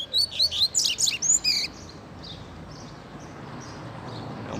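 Double-collared seedeater songbird singing close by, a quick run of bright chirped phrases in the first two seconds, then steady outdoor background hiss with faint distant calls.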